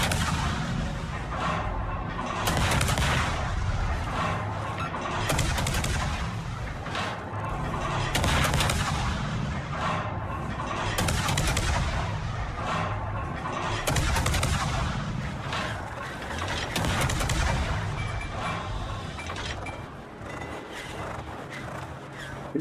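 Naval gunfire and artillery from World of Warships, heavy booming salvos repeating every couple of seconds across a long stretch of battle, loud and close with rumbling decay between shots and no voices.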